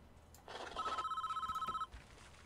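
Telephone ringing in the prison-building game Prison Architect, a single trilling electronic ring of about a second, clear and fairly close over quiet ambience.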